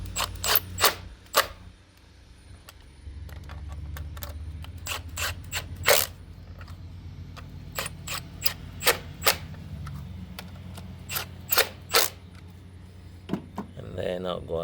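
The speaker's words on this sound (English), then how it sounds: "I'll tighten the bolts first." Ratchet tightening bolts on a 2013 Hyundai Elantra engine, with repeated sharp clicking bursts in quick runs and pauses, close and loud over a low hum.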